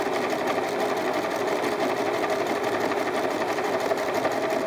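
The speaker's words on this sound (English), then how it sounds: "then sew along the third side" A sewing machine stitching along the third side of fabric for a bean bag, a steady, fast, close mechanical whirr and rapid needle rattle running without pause, with no talking.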